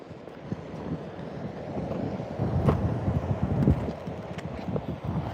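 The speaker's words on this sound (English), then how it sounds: "The wind's picking up though." Wind gusting across a fossil-hunting beach, a steady broadband rush that swells and buffets the microphone in uneven waves, with occasional low thumps and no voices.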